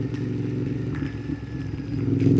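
Motorcycle rolling slowly downhill in low gear on a mountain pass road, with a steady low engine drone and light rattling up close. The engine rises slightly toward the end, and nobody talks.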